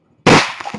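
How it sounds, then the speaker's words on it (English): A single sharp, loud blast from a pellet gun firing an exploding pellet at a can, an abrupt bang after brief quiet, followed by a short decaying rattle. "Let's see what a pellet gun with an exploding pellet in it is going to do to the can."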